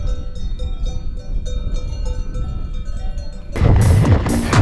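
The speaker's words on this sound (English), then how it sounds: "Moo cows with bells on." Cows wearing bells in the French Alps, a scatter of clanking metallic bell tones ringing out in quick irregular bursts, then overtaken by a sudden loud rush of wind or mechanical noise near the end.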